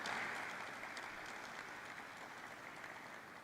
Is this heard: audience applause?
yes